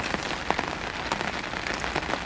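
Steady rain pattering on surfaces at an angling centre during a feeder fishing match, a dense and even hiss of drops throughout with no voices.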